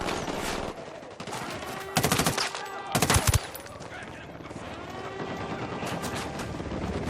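Automatic gunfire bursts in the shooter game Ghost Recon Wildlands, with two sharp rapid volleys over steady background battle noise and some voices.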